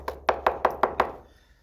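Hard egg shell being knocked, six sharp, evenly spaced taps in quick succession, close and crisp, each ringing briefly before the sound fades into quiet.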